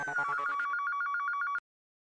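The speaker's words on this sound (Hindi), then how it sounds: "अंजलि, अपने ऑफिस फोन कर रहा हूँ भाई" A telephone rings on an outgoing call to an office, a repeating electronic ringtone with a rapid warbling pulse that plays steadily for about a second and a half and then cuts off abruptly into silence.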